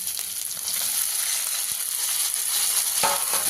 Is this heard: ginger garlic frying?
yes